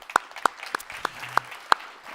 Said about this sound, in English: Can everybody give her a round of applause?